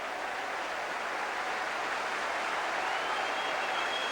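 Football crowd at a Bury FC match roaring after the Shakers score a goal, a steady, dense wall of cheering and applause that holds loud throughout with no gaps.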